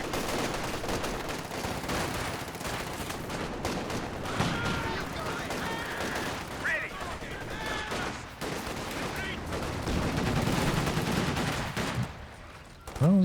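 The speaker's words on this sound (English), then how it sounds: "Machine gun kicking in here." Machine-gun fire rattles in bursts amid a dense battle din in Company of Heroes 2, layered over other gunfire and explosions with a voice talking over it, steady and loud for most of the stretch before it drops off near the end.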